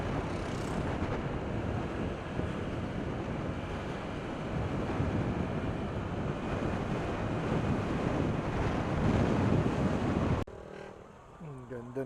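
Steady, roaring cold wind buffets the microphone for about ten seconds on a trail road in San Luis, Aurora, a broad rushing noise, then cuts abruptly to a quieter background with a faint voice.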